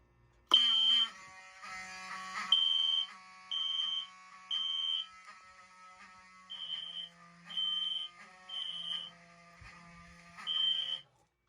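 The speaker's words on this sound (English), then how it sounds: "let's go ahead and sound the new alarms" A newly installed fire alarm horn sounds loudly in repeated bursts, each lasting about a second, separated by short pauses, with a steady electronic tone continuing underneath.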